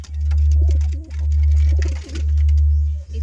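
Pigeons cooing close by in steady, rolling low calls that repeat about once a second, loud and clear with no voices over them.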